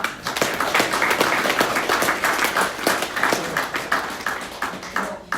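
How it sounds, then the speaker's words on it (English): Applause from an audience at a club night, a dense spread of hand claps running steadily for several seconds at moderate loudness. "I want you guys to just give a round of applause to these two guys here"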